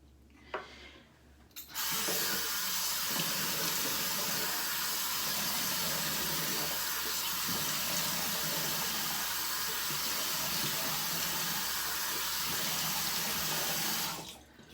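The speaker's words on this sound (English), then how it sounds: "I'm going to go ahead and splash some water on my face" A bathroom tap runs for face splashing, starting abruptly after a quiet moment and then rushing steadily as a loud, close splashing hiss before cutting off near the end, with no talking.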